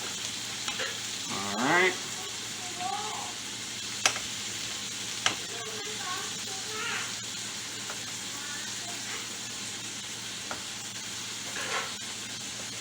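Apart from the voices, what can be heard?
fluffing cooked rice with a spatula in a pan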